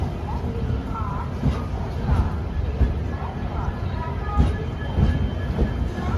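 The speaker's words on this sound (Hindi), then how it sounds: "बहुत धीरे धीरे स्किप करेंगे, गाड़ी बहुत धीरे हो चुकी है।" An Indian Duranto Express train rolls slowly through Kharagpur Junction station, a steady rumble of wheels with irregular clacks and squeals over rail joints, heard from on board, with faint background voices.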